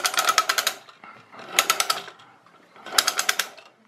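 A clockwork generator mechanism being wound up, giving three separate bursts of rapid ratcheting clicks with short pauses between them, close and fairly loud.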